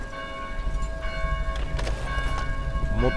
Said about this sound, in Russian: А, колокола-то здесь электрические.